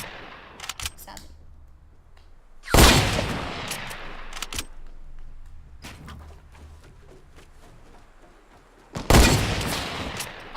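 Gunshots in Fortnite, loud and close, arriving as two sharp heavy blasts a few seconds apart with lighter clicks and quieter pops between them.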